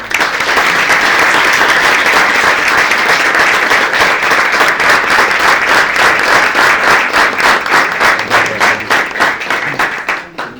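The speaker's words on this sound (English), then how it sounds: "Actually, it feels good when people clap." Audience at a meetup talk claps loudly and continuously, a dense burst of applause that thins into more distinct, rhythmic claps before fading out at the end.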